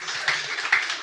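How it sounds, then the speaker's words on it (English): Audience applause for guests at an in-person hangout discussion in Lisbon: a steady wash of clapping from a room of people, with a couple of louder swells, no voices. "let's just give a big round of applause to our guests"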